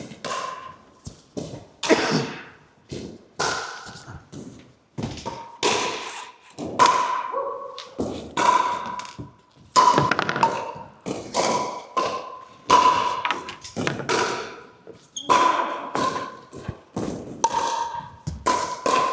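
Paddles strike a pickleball in a steady back-and-forth rally during a beginners' knock-up session at Mapplewell, Barnsley, each hit a crisp, close, hollow pock with short gaps between shots.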